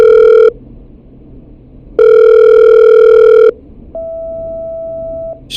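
In the Killer Frequency video game, a call being patched through rings with loud, close electronic tones: a short burst, a pause, a longer burst, then a steady softer single tone.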